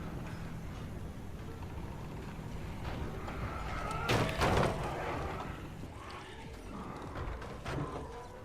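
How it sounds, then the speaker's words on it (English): Eerie creaking building ambience from the zombie game Dying Light, with low mechanical groans and creaks and a louder burst of rattling, knocking noise midway. "hearing the sounds of the creaks mixed with the sounds of the dead banging on the locked doors"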